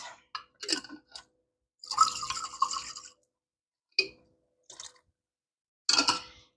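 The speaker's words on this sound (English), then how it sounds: "And then just pour the rest in the pot." Water poured from jars into a pot of green chili stew, heard as a few quiet, separate splashing bursts with silence between them and no talking.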